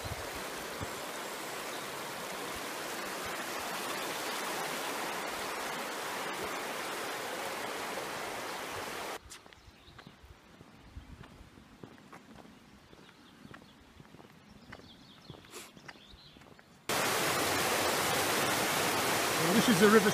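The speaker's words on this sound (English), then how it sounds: "This is the River Swale." The River Swale flows past the village of Muker in the Yorkshire Dales, a steady rushing wash heard close, then it drops away to quieter ambience with faint footsteps before the loud rush returns.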